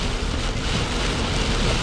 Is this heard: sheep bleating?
no